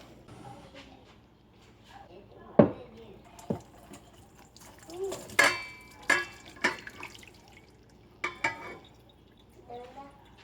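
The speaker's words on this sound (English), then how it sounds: "there is some grease down in there, so we are gonna drain it" Ground beef grease is drained into a metal colander, giving scattered faint drips and a few sharp clanks and taps against a quiet background, with a voice murmuring briefly.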